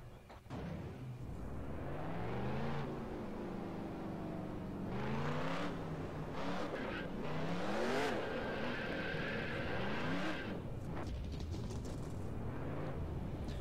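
Race car engines in the NASCAR Racing 2003 video game rev up and accelerate, their pitch climbing and dropping through gear changes as a loud, continuous mechanical whine with no voices.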